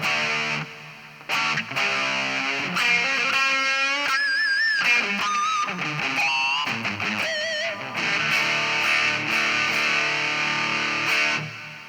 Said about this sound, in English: the more reverb you'll get